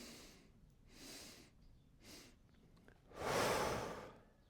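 Rapid breathwork breathing comes in a run of four sharp, forceful breaths through the nose, close and fairly quiet, the last one longest and loudest.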